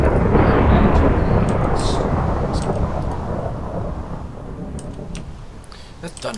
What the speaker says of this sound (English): That thunder is so loud.